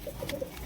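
A pigeon being handled by children coos in a few soft, low, rounded notes, close and fairly quiet, with no talk over it.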